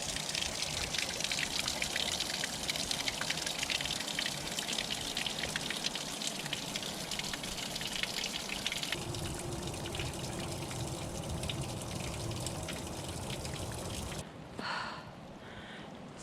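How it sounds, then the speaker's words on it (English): Steady dripping and trickling water from melting icicles inside a small cave beside a hiking trail on Mount Washington, a dense continuous patter that stays close and fairly loud throughout, with a brief shift in texture near the end. "So there's icicles melting here. It's dripping and then solidifying into ice again down there."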